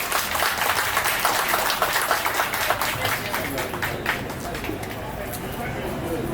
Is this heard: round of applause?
yes